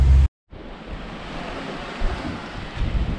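A strong wind at sea roars around a small boat lying at anchor in stormy weather. The steady, loud rush of wind and surf cuts out briefly near the start, then carries on unbroken.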